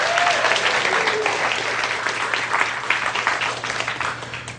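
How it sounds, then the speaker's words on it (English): A seminar audience on conversational hypnosis breaks into a loud, sustained round of applause, dense clapping that fades slightly toward the end, with a brief voice near the start. "give yourself a round of applause for sure."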